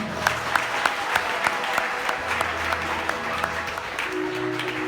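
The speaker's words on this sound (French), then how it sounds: "Jésus applaudissement." A church congregation applauds steadily with a regular clapping beat cutting through, while low sustained instrument or voice tones hum underneath, moderately loud and close.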